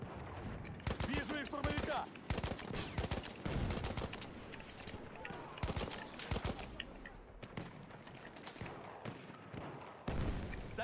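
Battlefield 1 gunfire, repeated sharp shots and bursts in quick clusters, loud and close, with a brief spoken word in between.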